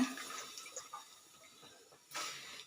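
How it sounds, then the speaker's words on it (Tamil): Corn kernels being rinsed in water, a soft trickling and sloshing that is faint and close, with a brief louder splash of pouring water near the end. "நல்லா அலசிட்டு ஒரு மூணு வாட்டி அலசிட்டு"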